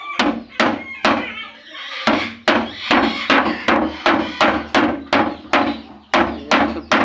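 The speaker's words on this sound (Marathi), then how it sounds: "आपण ते सुद्धा हातोडीने मारून घेणार आहोत" Repeated sharp metallic hammer blows on a sheet metal edge at a steady, quick rhythm, close and loud, with a brief pause near the start.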